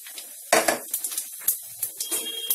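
Bay leaf, cardamom, chilli and cumin dropped into hot oil: a sudden loud sizzle, then short crackles and spits with a few light metallic clinks from the pan, close and without talk.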